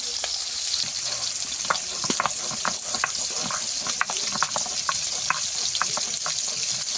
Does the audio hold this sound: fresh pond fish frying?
yes